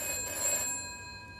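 A telephone rings once with a bright, close electronic trill that fades after about a second, in a 1980s British TV crime reconstruction.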